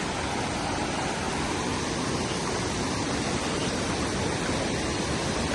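A full waterfall at Kappimala in Kerala roars in a steady, dense wash of falling water, loud and close, unbroken for the whole stretch with no voices.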